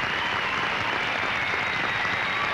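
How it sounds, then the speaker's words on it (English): Studio audience on a TV game show applauds the head electrician, an even, sustained wash of clapping heard alone at moderate level. "Well, may I have a nice round of applause for our head electrician, Mr. Bill Lebrecht."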